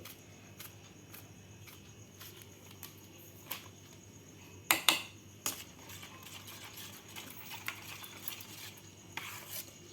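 Fasting-style appe batter, with a little soda mixed in, stirred evenly with a spoon: a soft scraping swirl runs steadily throughout, with a couple of sharper utensil clinks in the middle, fairly quiet and with no voices.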